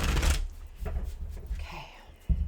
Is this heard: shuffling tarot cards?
yes